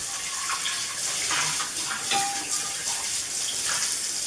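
Tap water runs steadily while large soaked beans and their pot are rinsed for vegetarian chili, a close, constant rushing splash with no pauses.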